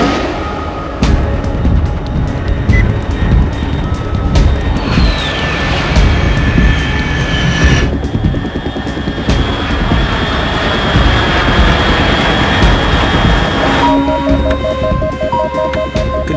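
An aircraft in the stealth action game Metal Gear Solid 3 Substance gives a loud, sustained engine roar with whining tones that rise and shift, alongside mechanical rumble and clanks.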